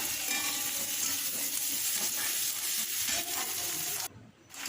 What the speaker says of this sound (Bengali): মাংসটাকে আমি ভালো করে কষাই করব অনেকক্ষণ ধরে।